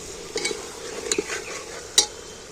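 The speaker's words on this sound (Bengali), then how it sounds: "মশলাটা কষানো হয়ে গেল তেল ছেড়ে দিয়েছে" Spice masala for mutton curry, cooked down until the oil separates, is stirred in a pan: a soft sizzle beneath a few sharp scrapes and clinks of the spoon against the metal, the last one loudest.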